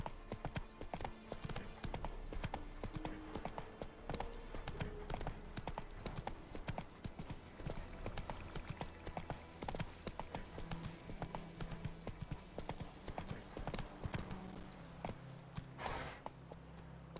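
A horse gallops in The Witcher 3 video game, its hooves drumming in a continuous rapid clip-clop that runs the whole time over a steady background bed.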